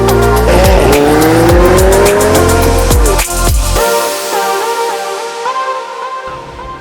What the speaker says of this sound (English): here we are driving our wonderful 720S Le Mans